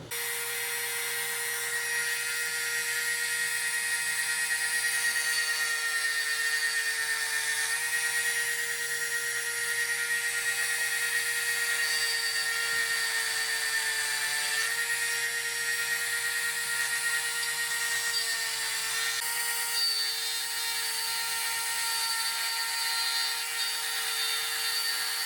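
A high-pitched tool whines steadily for a long stretch while cutting grease grooves inside a CanAm Outlander steering bushing, close and continuous with small pitch dips, no voices.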